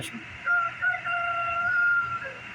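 A rooster crows in a long, drawn-out call, moderately near, over a faint background hum.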